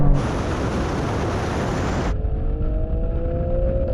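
An Alfa Romeo Stelvio Quadrifoglio launches off the line in a drag race against a BMW M4 and an Audi RS6. A loud, broad rush of noise cuts off sharply after two seconds, then the engine's tone climbs steadily as it pulls away.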